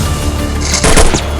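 A gunshot from a zombie apocalypse video game, one sharp loud burst with a brief crackling tail, over a steady low game background.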